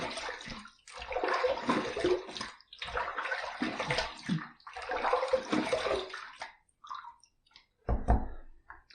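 Running water rinses a shaving razor with a bronze head on a pearl brass handle, three loud bursts of splashing flow with short pauses, then quieter drips and a final brief splash.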